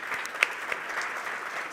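Audience at a green hydrogen conference session in Namibia applauding, a steady, fairly soft wash of clapping with a few sharper individual claps standing out, no voices over it.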